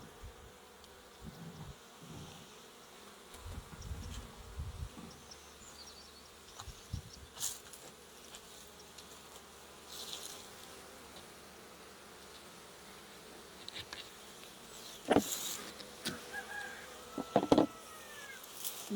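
Honeybees hum around a hive in a faint, steady drone, with occasional louder buzzes as individual insects fly close past.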